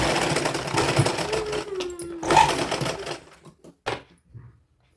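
A sewing machine stitches a small cotton dhoti kurta for a baby girl: a close, rapid mechanical whirring in bursts, slowing and stopping into a few short clicks before falling silent.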